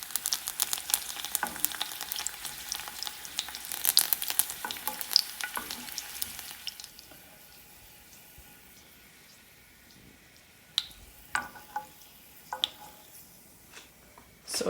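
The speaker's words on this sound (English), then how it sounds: "you're just going to drop all your leaves into the oil, and I would only do a few at a time because it goes very quickly" Sage leaves fry in hot oil, a bright crackling sizzle that is loud for the first six seconds, then settles into a quieter fizz broken by a few sharp pops and spatters near the end.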